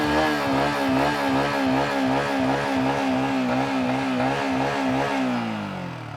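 A Yamaha XSR 155 motorcycle engine idles close by with a loud, even, throbbing pulse that carries through the whole stretch, easing slightly near the end.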